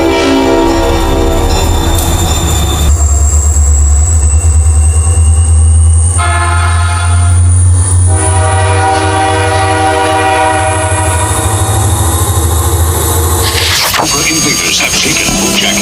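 A Tyco toy train runs along its track through a 1985 toy commercial, its steady rolling hum continuing beneath background music while a horn sounds, then the rolling fades out near the end.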